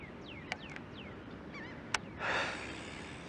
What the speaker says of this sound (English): Freaking bird, you're messing up my fishing here